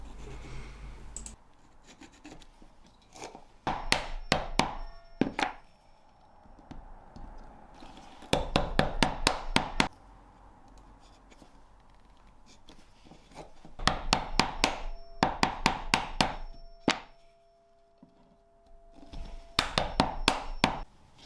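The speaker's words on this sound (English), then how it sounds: "chisel out the sides so it sits in there nicely" A chisel works out the sides of a wooden T-block in four bursts of rapid, sharp knocks and scraping cuts, separated by quieter pauses with faint background hum; close and fairly loud, with no speech.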